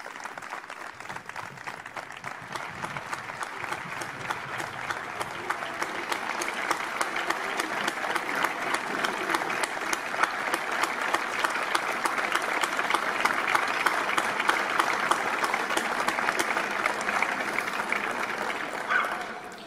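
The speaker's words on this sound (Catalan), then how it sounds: "Un fort aplaudiment." A concert audience gives sustained applause at a homage concert in Biar, a steady dense wash of many hands that swells gradually and then holds near its peak.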